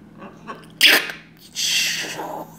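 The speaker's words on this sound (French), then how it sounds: "elle éteint la deuxième en éternuant" A parrot gives a sharp, close sneeze followed by a second breathy, hissing burst, both brief and loud against a quiet room.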